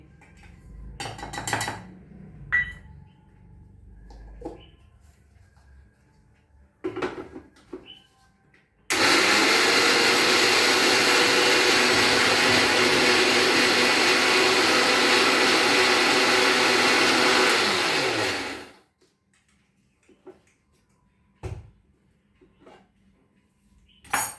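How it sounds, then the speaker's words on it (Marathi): A kitchen mixer grinder whirs loudly for about ten seconds grinding dry coconut, then stops, with light clinks and handling noises before and after. "हे जे ना नारळाचं कोरडं आहे ते मी बारीक करून घेते"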